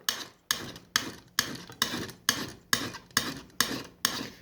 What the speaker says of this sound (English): And that's all you do is file this down until you get the radius correct.